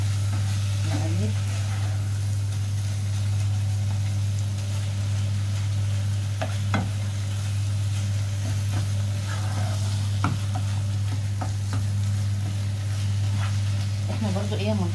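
Minced meat frying in a pan is stirred with a utensil, giving soft scraping and occasional knocks over a continuous low sizzle and a steady electrical hum, with no talking.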